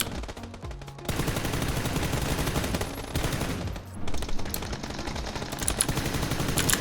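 Automatic gunfire in the tactical shooter Rainbow Six Siege rattles in loud, sustained close bursts, with a short lull before the shooting resumes just as intensely.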